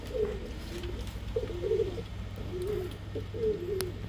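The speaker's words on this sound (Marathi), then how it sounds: "सुपर क्वालिटीचे कबूतर आहेत" Domestic breeding pigeons coo in repeated, rolling phrases close by in a loft, with several soft throaty calls spread evenly through the few seconds and no talking.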